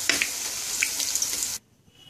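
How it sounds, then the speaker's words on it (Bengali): Drumstick flower pakoras frying in hot oil, a dense close hiss and crackle with a few bright pops that cuts off abruptly into near silence. "এভাবে আমি আর সব বড়াগুলো ভেজে নেব।"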